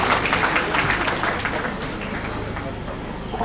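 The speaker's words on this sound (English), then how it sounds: "Please give her a huge round of applause." A crowd at an alumni meet applauding loudly, dense clapping that stays steady for a few seconds, then eases slightly toward the end.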